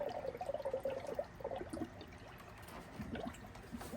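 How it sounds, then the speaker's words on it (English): Air bubbles faintly up through 50/50 antifreeze in a Dodge Caravan cooling system, a soft, irregular gurgling trickle close by, with no speech. "any air in the system is bubbling up through here"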